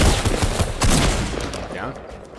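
Rapid bursts of gunfire in a Fortnite match crackle loudly and densely, tapering off toward the end with game sounds in the background.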